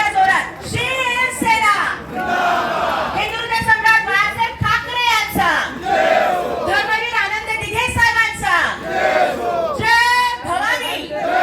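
A crowd at a political party-joining event in Mumbai chants slogans in loud, rhythmic bursts of many voices, the calls rising and falling in repeated waves with shouting throughout.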